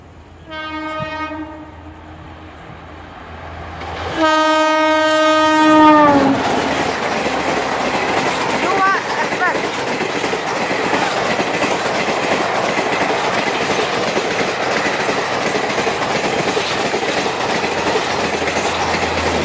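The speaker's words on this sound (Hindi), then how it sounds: "युवा एक्सप्रेस प्लेटफॉर्म नंबर 1 पे आ रही है।" Yuva Express hauled by a WAP-7 electric locomotive sweeps past a station platform at night, opening with a long multi-tone horn blast, then a loud continuous roar and rattle of coaches rushing by close up.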